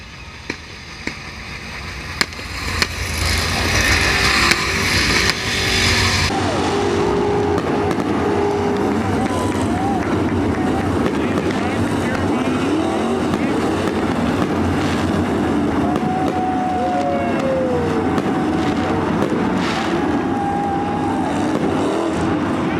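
Loud, continuous roar of several late model race car engines passing together on a wave lap at Attica Raceway Park, with rumbling, revving tones and a burst of crackling noise near the start.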